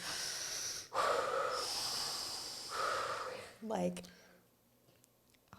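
A voice imitates labor breathing with several long, breathy exhales and sharp snorting intakes in a steady rhythm, close up, before talking resumes.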